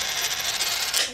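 A copper penny dropped onto a hard surface gives a bright, rattling metallic ring that spins briefly and fades, close and alone.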